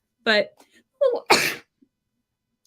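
A single loud sneeze bursts out between snatches of conversation during a live business talk show, close to the microphone, with people speaking briefly before and after it.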